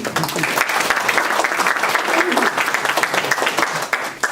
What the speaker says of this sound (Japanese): 拍手お願いしますね。